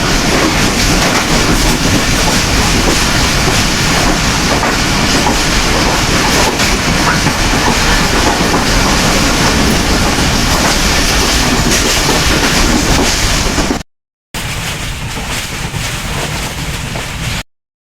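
Loud, steady rumble and clickety-clack of a train on the Lahore to Multan line as it pulls toward the Gojra station platform, continuous wind-buffeted noise with a brief dropout near the end.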